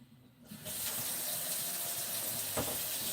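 Tap water starts after a quiet half second and then gushes steadily into a sink while a dish is washed, close and continuous, with a brief clunk near the end and no speech.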